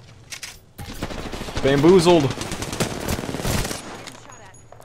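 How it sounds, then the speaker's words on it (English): Gunfire in an online shooter video game, a burst of rapid shots alongside other scattered bangs, with a person speaking over part of it. "Oh god, gunshots."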